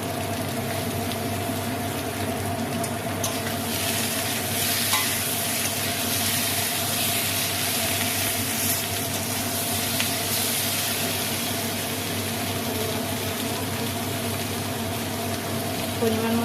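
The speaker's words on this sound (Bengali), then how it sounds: "আলুটা একটু ভাজা ভাজা হয়ে গেছে" Potatoes frying in a pan with salt and turmeric give a dense, steady sizzle, with stirring and scraping heard up close for the whole stretch and no speech over it.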